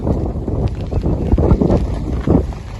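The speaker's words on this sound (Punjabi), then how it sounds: "ਹਵਾ ਹਜੇ ਵੀ ਬਹੁਤ ਚੱਲਦੀ ਐ ਪੂਰੀ" Strong wind buffets across a rain-battered wheat field, loud and gusty with heavy low rumbling bursts close to the microphone.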